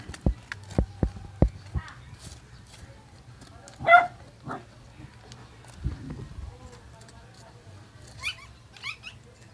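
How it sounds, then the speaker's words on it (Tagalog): Several sharp, short dog barks ring out in the distance amid background noise and faint voices, scattered irregularly rather than in a steady rhythm. "Maingay yung mga aso."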